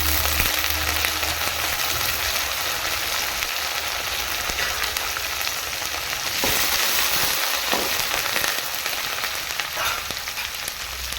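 Green chili and curry leaves sizzle in hot oil while tempering for drumstick and dal sambar, a loud, dense, continuous crackle and hiss with brief surges, close up and without talk.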